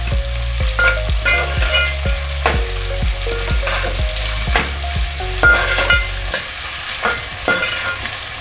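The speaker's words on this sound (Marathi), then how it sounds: "कांदा आपण लालसर होसपर्यंत तळून घ्यायचा" Onions fry in oil with whole spices in a pan for chicken biryani, cooking until reddish: a loud, close, continuous sizzle with repeated scraping stirs of a spatula, no voices.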